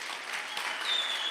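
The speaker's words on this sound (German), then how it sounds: "Dat mag je een applaus geven." Brief, fairly faint applause from a congregation during a church service, an even patter of clapping with a thin high tone sounding faintly near the end.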